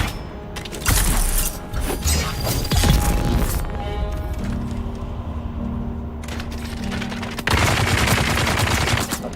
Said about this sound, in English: Two Gatling guns. Well, that's going to be a bit of a challenge.